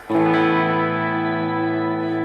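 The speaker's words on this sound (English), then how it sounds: "this is kind of a lead tone that I use with that shimmer reverb on it" Sustained electric guitar lead note with gain and a lush shimmer reverb, ringing out loud and steady for a couple of seconds with no talk.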